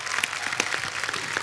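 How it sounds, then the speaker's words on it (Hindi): Studio audience applause on a comedy talk show, a short burst of dense, even clapping with no talk over it. "जोरदार तालियां।"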